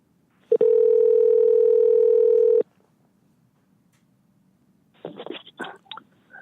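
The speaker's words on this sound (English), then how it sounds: "I'm gonna call Will right now and add him to this phone call" Telephone dial tone heard while placing a call to add someone to a phone line: a steady two-second tone starts abruptly and cuts off, then after a pause a quick series of dialing beeps and clicks.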